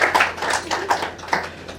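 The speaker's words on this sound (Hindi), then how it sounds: "एक बार जोरदार तालियां" Audience at a Hindi poetry gathering applauds with a handful of distinct, rhythmic claps in a quick repeating pattern, close and moderately loud, without much crowd noise.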